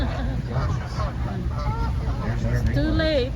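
Ducks and geese honk and quack repeatedly at close range on a river lock cruise, a steady chorus of calls over constant engine or water rumble, with people talking nearby.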